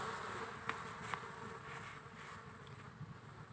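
A swarm of many oriental fruit flies gives off a faint, steady buzzing drone, broken by a couple of brief clicks. No voices are heard.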